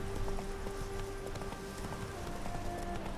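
Horse hooves galloping across open ground in The Witcher 3, a steady clip-clop rhythm close up and moderately loud, running continuously under a wash of ambient game noise with no talking.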